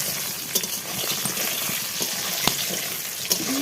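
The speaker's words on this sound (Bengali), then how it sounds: "বন্ধুরা এখন মাংসের জন্য আলু ভাজা বসিয়ে দিয়েছি কড়াইতে।" Potatoes fry in oil in a kadai with a moderate crackling sizzle, punctuated by a few sharp metallic clinks and taps of a utensil against the pan.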